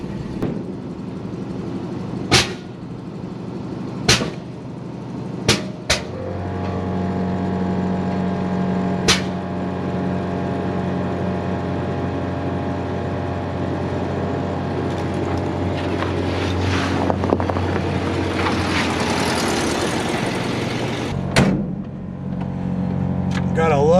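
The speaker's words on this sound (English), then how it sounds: "Gotta love the sound of them air compressors" An old truck idles with a steady low drone while its air compressors build pressure, adding a humming tone that climbs and hisses. A few sharp clicks sound near the start.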